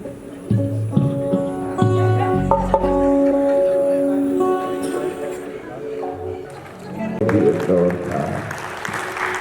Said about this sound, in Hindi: मेरे लिए आपने तालियां बजाई, उतनी जोरदार तालियां